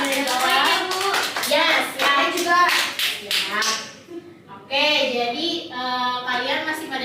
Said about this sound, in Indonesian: Boleh tepuk tangannya buat teman-teman dari bawah